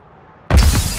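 A breaching charge detonates in Modern Warfare 2: quiet room tone, then a sudden loud, close blast with a crackling, rumbling tail.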